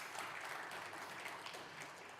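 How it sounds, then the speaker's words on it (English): An audience at an aviation panel discussion on aircraft for Africa applauds the panel members, a faint, steady patter of many hands clapping continuously from a distance. "A round of applause for all of them."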